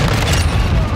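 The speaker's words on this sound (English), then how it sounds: "He's just gonna sit back and launch those rockets like that." A deep, loud rocket explosion booms and rumbles continuously in a Call of Duty: Modern Warfare II match, filling the whole moment with dense low roar.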